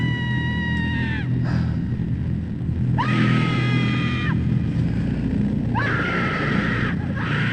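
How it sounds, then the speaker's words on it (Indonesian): A woman screams loudly in pain, three long shrill wails rising and sustained over a constant low rumble of background noise. "tiba-tiba terdengar suara teriakan seorang perempuan menjerit kencang sekali"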